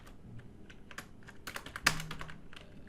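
Typing HTML code on a computer keyboard, a quiet irregular patter of close key clicks with one sharper, louder tap partway through, no speech.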